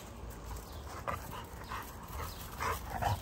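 An XL lilac tri male dog whimpers and yips in short, soft, high-pitched bursts, repeated irregularly and heard close over steady background hiss.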